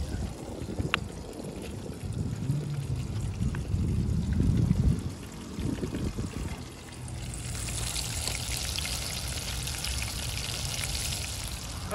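Chicken karaage seasoned with sesame oil, soy sauce, garlic and paprika frying in hot oil, heard as a loud continuous sizzle and crackle of bubbling oil, easing into a steadier hiss partway through, with no talking.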